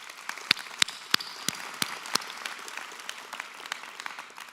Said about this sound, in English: So a round of applause to thank them,